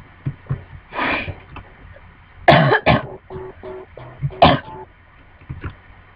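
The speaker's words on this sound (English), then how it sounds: "There was candy in my throat and I just coughed it up." Someone coughs and clears their throat hard to bring up a piece of candy stuck in it, a run of loud, close, rasping hacks and gulps coming in irregular bursts.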